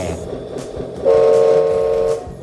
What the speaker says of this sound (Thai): ก็จะเป็นเสียงแตร